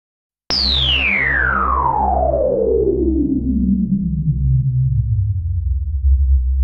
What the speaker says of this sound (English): You can hear the detune, you can hear the 5 voices there.